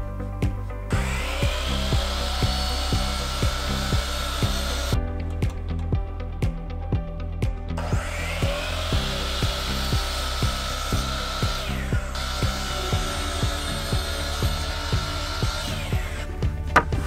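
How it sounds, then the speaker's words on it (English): Pieces of wood are sawn for a Mr. Cool mini-split install, a steady rhythmic cutting that runs in long passes with a couple of brief pauses, close and fairly loud, with no talking. "I have my pieces of wood cut"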